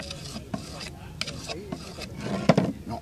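A knife blade scraped and rubbed across a piece of wood to knock off the burr after sharpening, a few close, rasping strokes with light knocks.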